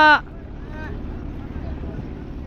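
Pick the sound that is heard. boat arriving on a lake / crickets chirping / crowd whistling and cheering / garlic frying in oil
boat arriving on a lake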